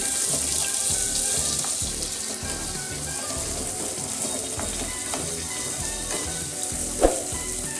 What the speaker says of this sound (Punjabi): ਹੁਣ ਅਸੀਂ ਇੱਥੇ ਪਿਆਜ਼ ਪਾ ਦਵਾਂਗੇ ਪਿਆਜ਼ਾਂ ਨੂੰ ਮੈਂ ਲੰਬੇ ਇਸ ਤਰ੍ਹਾਂ ਦਾ ਆਪਾਂ ਚੌਪ ਕਰ ਲਿਆ ਸੀ ਪਿਆਜ਼ਾਂ ਨੂੰ ਅਸੀਂ ਭੁੰਨ ਲਵਾਂਗੇ